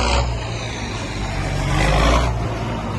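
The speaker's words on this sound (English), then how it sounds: "New Holland T6 180." A New Holland T6 180 tractor engine revs at a tractor run, the mid-pitched roar swelling near the start and again toward the end over a steady, close engine drone.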